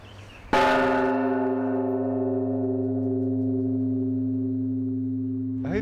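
A single deep strike of a Buddhist temple bell rings out, its rich tone sustaining and slowly fading for several seconds in otherwise quiet surroundings.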